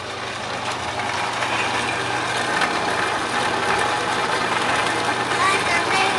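A farm water pump's motor runs steadily at close range, a continuous mechanical drone with a faint rattling texture, while voices talk over it.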